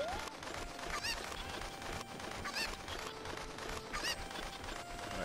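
Cucco chicken from the video game Zelda: Ocarina of Time giving three short, squawky clucks about every second and a half, standing out over a steady bed of game ambience.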